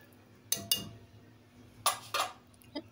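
A metal pressure cooker lid clanks and clinks shut on a pot of chana dal being cooked for shami kabab, in two pairs of sharp close knocks followed by a small final tap, with no talk.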